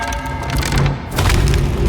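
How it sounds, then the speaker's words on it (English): A heavy wooden door on the Ferry of the Damned in Sea of Thieves grinds open with deep booming thuds and creaking wood, loud and close, in two swelling surges. "This door is gonna open"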